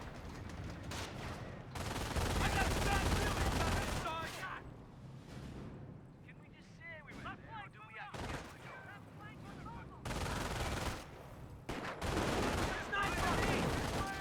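Rattling rifle and machine-gun fire with booming impacts in a Company of Heroes 1 online match, continuous battle noise in waves with occasional brief lulls, and a voice talking over the action.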